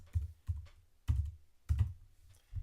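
Four clusters of keyboard key clicks on a computer keyboard, close and fairly quiet, arriving in uneven bursts with short pauses between them.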